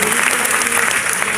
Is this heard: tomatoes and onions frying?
no